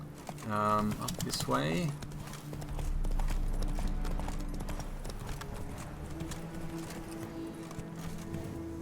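Roach the horse clip-clops along in The Witcher 3: Blood and Wine, hooves plodding steadily under game music and ambient sound while someone speaks briefly near the start.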